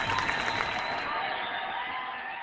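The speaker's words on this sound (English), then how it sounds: "that sound of applause, that roaring applause, means it's time once again for the interview block" A roaring applause sound effect of a large cheering crowd plays as a loud, dense wash that fades and dulls toward the end, with no voices over it.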